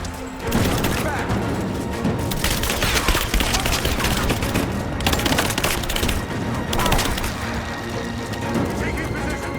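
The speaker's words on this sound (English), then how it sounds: "Right, gun incoming! Give me suppressing fire!" Dense, continuous suppressing gunfire crackles and booms in a Rise of the Tomb Raider firefight, loud and unbroken for several seconds, with voices shouting over the chaos.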